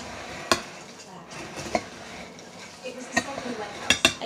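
A big spoon stirs a large bowl of dessert mix in the Poptropica video game, giving sparse clinking and scraping hits with a sharp clack at the start and a cluster near the end, over low background noise.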